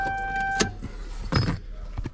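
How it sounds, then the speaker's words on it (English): Keys jangle as the key is pulled from the ignition of a stock, all-original manual Toyota Supra, with a couple of short metallic rattles and clicks over a low steady hum, close and clear. "I'm gonna take out the key because it's not gonna."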